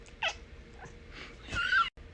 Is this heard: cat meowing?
yes